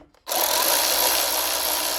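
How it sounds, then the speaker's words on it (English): A power tool drives a brake line bolt tight on a Ford Edge during front wheel bearing work. It starts abruptly after a brief silence and then whirs loudly and steadily, close up, until the end. "Tighten this brake line bolt up."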